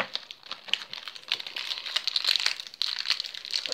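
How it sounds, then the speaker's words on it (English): Sour candy wrappers are being unwrapped close by, with continuous crinkling and crackling plastic rustles and irregular bursts that run through the whole stretch. Nobody talks. "Actually, unwrap all of them. Just unwrap all of them."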